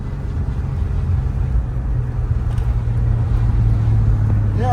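A turbo diesel car with a Mercedes OM603 engine running a big turbo accelerates hard. A steady, loud, low engine drone with a rising roar lasts throughout.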